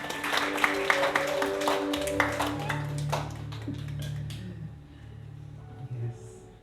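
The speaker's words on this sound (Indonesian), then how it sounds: "mari kita berikan tepuk tangan." A wedding ceremony congregation gives scattered clapping and tapping for the couple over sustained musical tones. The applause fades after a few seconds while the tones carry on.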